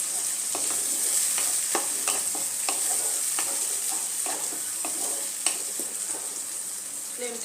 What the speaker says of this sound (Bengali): ভালো মতো এই পেস্টটাকে ভেজে নেব যাতে কাঁচা গন্ধটা বেরিয়ে যায়